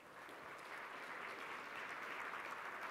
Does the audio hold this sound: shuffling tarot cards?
no